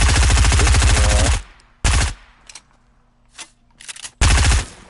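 Fortnite gunfire blasting through a built wall: a long loud rapid automatic burst, then a short burst and a few faint shots, ending with another loud rapid volley, with no talk.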